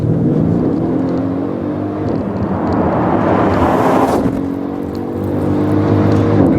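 A Mercedes ML63 AMG SUV with a 557-horsepower engine accelerates hard, its loud, close exhaust roar climbing in pitch through a gear, then dipping briefly before rising again with no speech.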